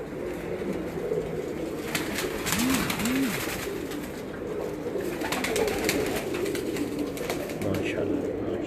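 Pigeons on a Faisalabad rooftop loft coo softly, with two distinct low coos in quick succession and a few fainter calls later, over steady outdoor ambience and occasional wing or movement noise.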